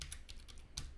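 A few quick key taps on a computer keyboard entering a project name, faint and close, with short gaps between clicks over a low background hum.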